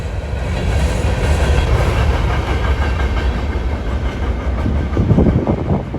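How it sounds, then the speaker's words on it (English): Freight trains roll through Northtown Yard, a loud continuous rumble of wheels on rails with rhythmic clacking and engine drone sustained for the whole stretch. "All these trains are working their way south through Northtown Yard."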